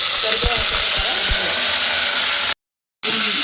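Curry leaves hit hot oil already crackling with cumin and mustard seeds, a loud, steady broadband sizzle with a few brief voice sounds early on and a short cut to silence near the end.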